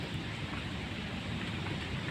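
Heavy rain and strong wind after Typhoon Kristine pour in a dense, continuous hiss, with a low roaring rumble underneath, steady throughout and with no voices.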